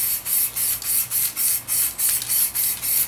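Rapid, rhythmic bursts of aerosol spray hiss in steady short pulses, about ten in a row, close and loud, as silver metalizer PlastiDip coating is sprayed onto a car wheel.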